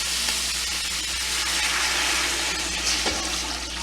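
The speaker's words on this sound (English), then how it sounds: "And now we're going to add 12 cups of water, 12." Steady rushing splash of twelve cups of water pouring into a large stock pot, continuous and close for the full stretch with no talking.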